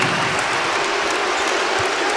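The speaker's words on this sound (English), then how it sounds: "And they're not booing, folks. They're zooing." Dense basketball arena crowd at Arizona State playing at #1 Arizona, a sustained loud roar that fills the whole moment without breaks; a drawn-out chant of "zoo" in place of booing, which cannot be picked out as a word.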